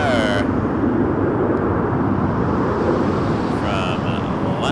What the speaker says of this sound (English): here comes the beast. Air Canada 857 777-300ER